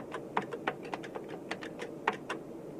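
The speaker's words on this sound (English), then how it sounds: "now I can type in the word that I want" Keystrokes on an Alto computer keyboard while typing a replacement word, an irregular run of crisp, close clicks with a few sharper taps, heard alone over a quiet room hiss.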